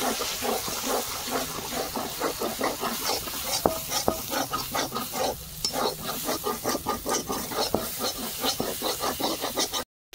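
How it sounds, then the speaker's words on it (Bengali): Beaten eggs with salt and turmeric fry in hot oil for egg bhujia, giving a continuous close crackling sizzle with rhythmic stirring and scraping throughout. "তেল গরম হয়ে গেছে, ডিম দিয়ে দিচ্ছি।"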